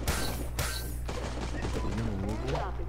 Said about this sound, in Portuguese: tiros lá na esquerda